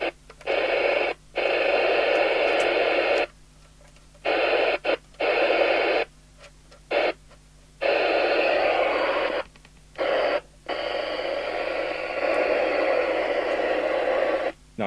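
Bursts of loud, hissing static from a Uniden Uniace 200 UK FM CB radio under repair, switching on and off in irregular chunks, with short silent gaps between, and no voices.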